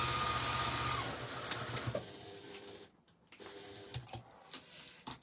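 A sewing machine runs a steady whirring stitch along a zip, then slows and stops before a few clicks and soft handling noises follow, all close up.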